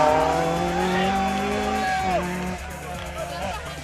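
A Toyota Starlet rally car races at full throttle on a Barbados rally stage, engine revving high with sliding pitch and tyres squealing, loud and close, while a commentator talks over it.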